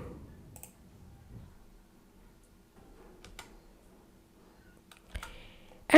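A few quiet, sharp computer mouse clicks sound in a near-silent room, spaced out, with a louder click right at the end.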